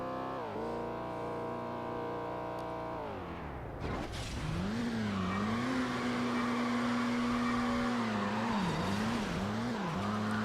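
Car racing engine and squealing tires in Midnight Club 2, a steady loud engine drone that drops and surges again, followed by a wavering high tire screech over continuous engine roar.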